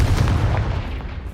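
A Confringo spell blast fires in Hogwarts Legacy, a loud, dense booming burst lasting about a second and fading into a rumbling tail.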